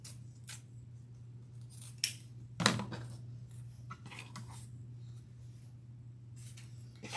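Scissors snipping ribbon at an angle while making a candy-themed Christmas wreath: a few quiet, close crisp snips scattered over a faint steady hum, with one slightly louder cut in the middle and no talk.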